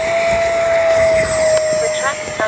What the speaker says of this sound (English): This is the E-FLITE low stress jet.